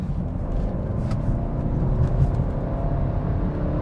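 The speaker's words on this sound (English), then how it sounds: "I'm going to give it a go in sport mode and see what that does. So that instantly brings the engine on." A BMW 330e plug-in hybrid sedan accelerates hard in sport mode while overtaking, its petrol engine cut in and giving a steady, loud in-cabin drone and rumble that swells slightly, with no talk.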